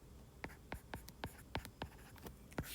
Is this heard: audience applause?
no